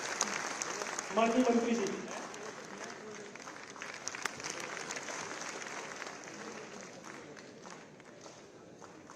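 Sustained applause from an audience at a National Youth Day event fills the room, starting loud as someone speaks briefly, then continuing steadily and gradually fading.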